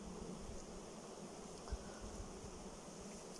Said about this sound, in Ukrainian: Пройтися по всій пасіки і показати українську породу бджіл.